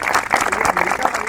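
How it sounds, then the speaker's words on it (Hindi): Studio audience applause on a comedy talk show, a short dense burst of clapping from a crowd, loud and close throughout. "तहसीन भाई के लिए बहुत से तालियां जी।"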